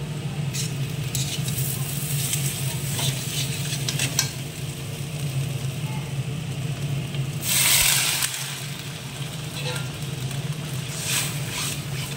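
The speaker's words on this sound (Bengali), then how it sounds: "গোটা গোটা আলু ছেড়ে দিলাম, কড়াইয়ে কেটে দেবো" Whole potatoes sizzle and get stirred in a wok for a potato curry. Oil crackles steadily at close range the whole time, with a brief louder burst of hiss and clatter near the end and no talking.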